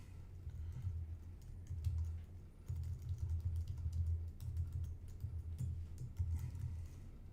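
Steady typing on a computer keyboard, soft keys clicking in a continuous stream with brief gaps, heard close over a low background hum, no speech.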